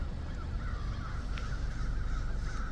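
Many crows caw together in a dense, continuous chorus with a constant wash of background noise, all of it fairly loud and with no voices.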